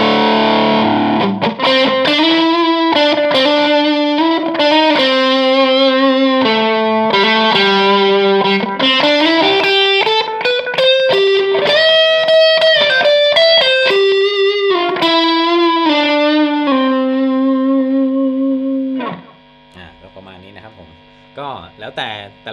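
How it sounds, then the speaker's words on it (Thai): Electric guitar through a NUX XTC Overdrive pedal mixed with a delay effect plays a sustained melodic line with echoing repeats trailing each note, loud and continuous before fading out near the end. "ผมจะเริ่มจากเสียงเจ้าตัว XTC Overdrive นะครับผสมเสียงกับดีเลย์นะครับ"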